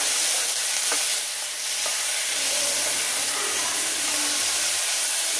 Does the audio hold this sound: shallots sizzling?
yes